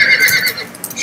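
A horse neighs in the horse-riding video game Star Stable, a short loud whinny with clip-clop hooves mixed in, and no voices over it.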